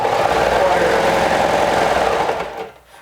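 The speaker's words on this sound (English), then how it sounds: "And then you start serging all the way" An overlock serger stitching steadily along a garment edge, a loud continuous mechanical whir that runs without pause before slowing and dying away at the end.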